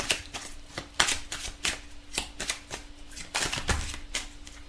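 Oracle cards being shuffled in a close, steady run of crisp riffling bursts, each a short papery flutter repeating roughly every half second, with no voices.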